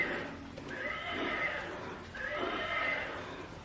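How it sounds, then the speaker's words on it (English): A child's rocking horse toy gives two drawn-out, whinnying neighs at moderate volume over a faint, steady background hiss. "a child's horse toy is seen rocking back and forth on its own and making noises"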